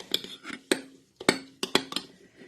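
A spoon clinks and scrapes against a bowl as chocolate chips are stirred into low-carb homemade chocolate chip ice cream, a few sharp knocks in an irregular rhythm, close and fairly quiet.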